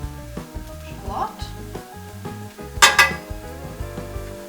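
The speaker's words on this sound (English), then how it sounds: "you just let it saute or cook off for another minute or two" Garlic and shallot sauté in a pan with a soft sizzle, while a spoon scrapes and clinks against the metal a few times and a louder clatter comes near the end; background music plays underneath.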